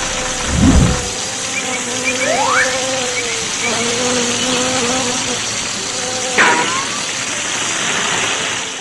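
A bee colony in a 3D animation buzzes in a steady, continuous drone, with short rising and falling whines passing by and a brief low thump near the start.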